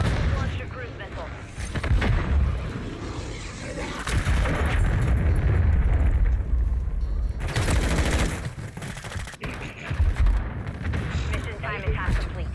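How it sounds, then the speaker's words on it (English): Cruise missile explosions boom and rumble in Call of Duty Warzone on Rebirth Island, dense, loud blasts layered with gunfire and crackling debris, with bursts of game voice chatter in between. "Hostiles launched a cruise missile."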